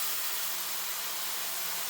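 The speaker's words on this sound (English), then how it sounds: "We're basically deglazing that pan, getting all that flavor from the pan" Onion broth poured into a hot frying pan to deglaze it after spiced roast beef was seared, giving a steady, loud broadband hiss and sizzle that runs unbroken throughout with no voices.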